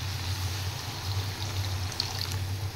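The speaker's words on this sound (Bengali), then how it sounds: "এবার আমি দিয়ে দেব পরিমাণ মতো জল" Water pours steadily into a pan of mustard and green-chilli paste, a continuous close splashing trickle over a low steady hum, with no break.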